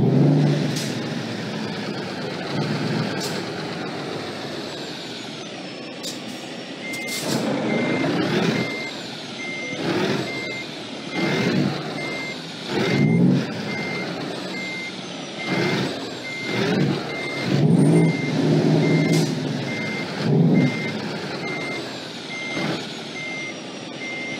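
A truck in American Truck Simulator, its engine rumbling while a regular reversing beeper sounds in a steady repeating pattern, with surges of revving and air-brake hisses as it backs up, close and loud, no talking.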